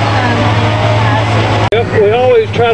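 A tour boat's motor hums steadily at close range on a bayou, with a voice speaking over the engine noise in the latter part.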